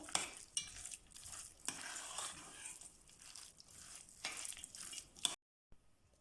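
A spoon stirs kutia, Ukrainian Christmas wheat porridge mixed with poppy seed filling, in a bowl, giving soft repeated scraping and mixing strokes up close, then a brief silence near the end.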